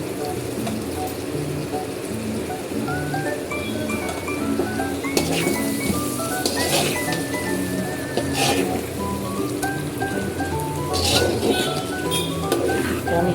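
Rita fish slid into a hot cooking pan, a loud continuous sizzle with scattered clinks, steady and close, with a faint intermittent musical background throughout.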